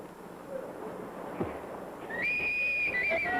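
A shrill, steady whistle blast rises over a noisy, murmuring crowd and holds for over a second, loud and fairly close.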